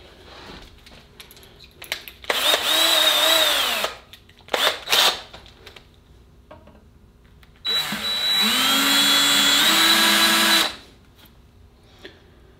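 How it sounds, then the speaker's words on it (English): A power drill whines through wood in two bursts, a shorter one then a longer one, with quiet clinks and handling sounds between, drilling a flintlock wiping stick. "now we're going to drill that out"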